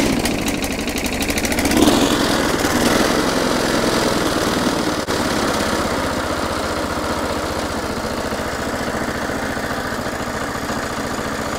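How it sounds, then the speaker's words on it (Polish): A small generator engine runs steadily right after starting, a loud close mechanical drone with a brief revving surge early on before settling into an even idle. "O dziwo, silnik ruszył dość szybko"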